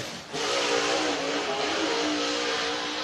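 A race car laps the oval at Whynot Motorsports Park during the Fall Classic, its engine a loud, steady drone that swells after a brief dip at the start and holds strong through the turn.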